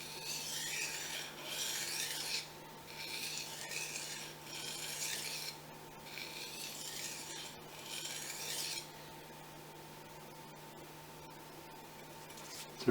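Fujimoto Honesuki knife drawn across a Japanese waterstone in light, even strokes, a soft rasping hiss that swells and fades in a steady rhythm of about six passes, close and alone, then settling into quieter scraping.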